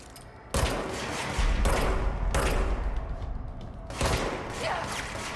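Rapid bursts of gunfire from a semi-automatic weapon in the video game Control: dense, loud volleys that start and stop repeatedly, with heavy impacts and a constant roar of battle between bursts.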